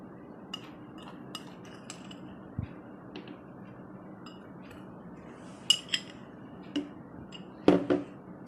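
Spoon stirring gelatin into Coca-Cola in a glass, a quiet scatter of light clinks and taps against the glass, growing louder and more frequent toward the end, with no talk.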